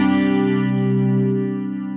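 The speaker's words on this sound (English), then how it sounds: "that sounds like a pretty nice slow rotary sound" A slow rotary speaker effect from a Line 6 HX One guitar pedal on a sustained guitar chord, with a steady gentle swirl and mild distortion that fades slightly toward the end.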